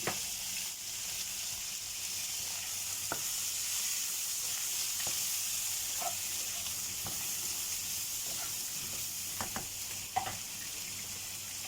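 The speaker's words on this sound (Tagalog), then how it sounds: "Nagtatawsikan yung luya." Ginger sizzles steadily in hot oil for a Filipino eggplant dish cooked in coconut milk, a close, continuous frying hiss broken by scattered pops and light stirring clicks.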